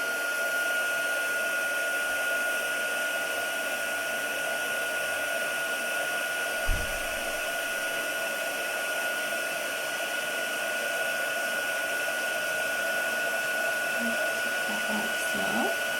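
An embossing heat tool blows over a card in a crafting setup, a steady, even whirring hum with no change in pitch for the whole stretch, a single soft knock partway through.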